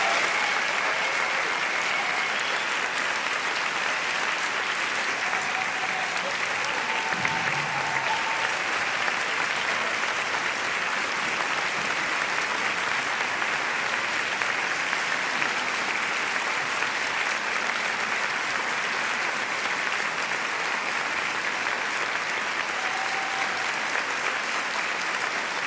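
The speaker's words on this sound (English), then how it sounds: "Let's give them another round of applause." An audience applauds at a book awards ceremony, a long, even wash of many hands clapping at a moderate distance, sustained at a constant level from start to finish with no voices standing out.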